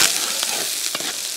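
Diced pork fat with scallion, ginger, garlic and shiitake mushrooms sizzles in hot oil in a wok, a steady bright frying hiss with a few soft stirring scrapes.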